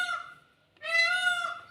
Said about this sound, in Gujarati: મોર કેવા ટહુકા કરી રહ્યા છે